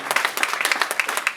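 Church congregation clapping in acclamation during a French-language sermon, a brief burst of quick, fairly close claps.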